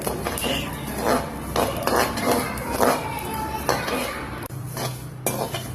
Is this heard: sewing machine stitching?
no